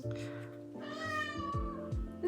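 A house cat meows several times in a row indoors, drawn-out and tonal calls fairly close, with no speech.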